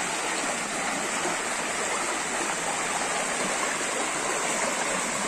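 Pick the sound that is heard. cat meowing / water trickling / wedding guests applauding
water trickling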